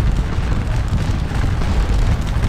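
Cannon fire in a Battle of Waterloo real-time strategy game forms a dense, continuous low booming rumble, loud and close, with no single distinct shot standing out from the sustained roar.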